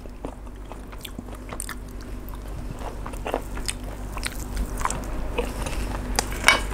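Close-up chewing and biting of grilled beef salad (nam tok neua yang), with crunchy bites and moist mastication sounds repeating steadily over a low background hum.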